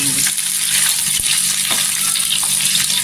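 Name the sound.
eggs frying in oil for egg masala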